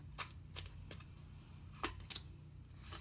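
Tarot cards being shuffled and drawn, with a series of soft, quick riffling flicks and snaps spaced out at close range over a quiet background.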